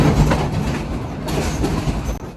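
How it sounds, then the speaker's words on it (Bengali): A passenger train of sixteen coaches rolls over a bridge across the Turag River near Dhaka, its steady, loud rumble and wheel clatter heard close from on board, with no voices. "এই তুরাগ নদীর উপর দিয়েই আমাদের ট্রেনটি ছুটে চলেছে ঢাকার উদ্দেশ্যে।"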